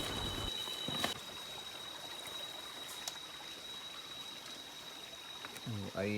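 Water trickles and splashes at a mountain water point on Gunung Dulang as bottles are refilled, a soft continuous hiss with a short burst of voice near the end.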